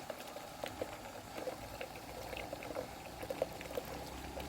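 Water pours and splashes steadily while a Honda CB150R motorcycle is washed, a soft continuous trickle with small irregular splashes, faint and close.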